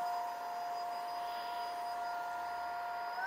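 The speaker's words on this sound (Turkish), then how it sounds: "Bakalım halıyı vakumlayabilecek mi? Şu anda ilk modda çalıştırıyorum." Umie DS-U23 stick vacuum cleaner running in its first mode on carpet, a steady close motor whine with a high airy hiss, constant and unbroken with no talk.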